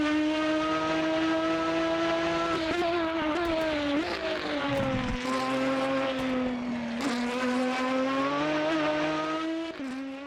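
Aston Martin DBR9 race car in Automobilista 2, its engine holding a loud, steady, rich harmonic tone with brief dips and rises in pitch as it shifts and revs, continuous for about ten seconds with no talking.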